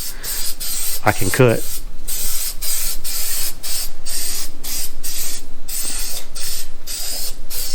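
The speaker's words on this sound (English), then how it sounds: "I'm going to take some of this rust reformer that I normally use to cure rust" Aerosol can of rust reformer sprayed in steady hissing bursts along the trunk floor edges of a 1969 Chevy Nova, close and continuous for most of the span, with one brief spoken phrase near the start.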